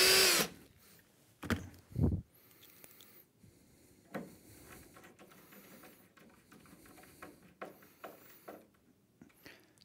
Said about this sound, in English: So drill a hole, don't put your hand behind in case you go through the panel